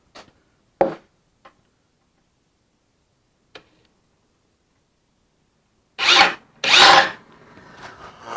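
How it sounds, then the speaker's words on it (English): A few scattered clicks and taps in near silence, then two short, loud whirring bursts of a power drill boring a hole in a generator box, close by. "Drill that last hole."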